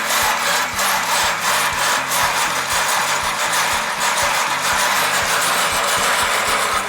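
Metal springs under a theatre stage are pushed back and forth to imitate a train, giving a dense, raspy, rhythmic scraping chug that is loud and continuous, with no talking.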